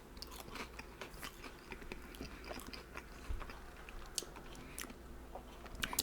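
Close, quiet chewing and crunching of fish and chips fries, with steady soft bites and mouth sounds under a faint background hiss and no talk.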